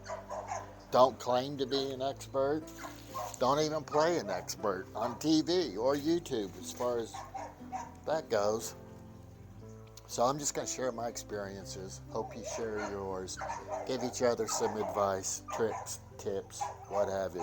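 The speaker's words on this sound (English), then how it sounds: "Sorry about the barking dog." A dog barks and yips intermittently in the background while someone talks steadily in the foreground.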